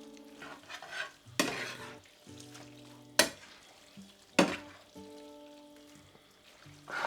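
Fresh egg tagliatelle are tossed in a pan with steak ragu, with several sharp, loud scraping stirs over a quieter bubbling simmer and background hum, no voices.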